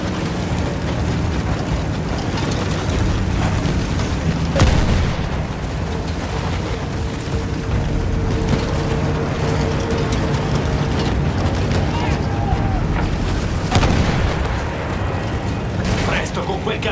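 Field cannon artillery fire in the Battlefield 1 video game, heavy booms landing around 4.7 and 13.8 seconds over a constant rumbling battlefield din with mechanical clatter.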